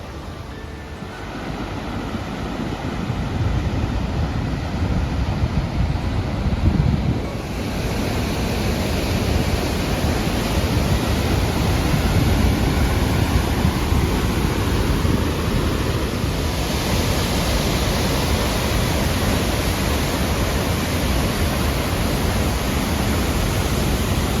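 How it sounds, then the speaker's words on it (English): Steady, loud rushing water roars continuously throughout on a mountain trail near Tuolumne Meadows, a dense unbroken wash of noise with no voices. "Crazy how long this water flow is."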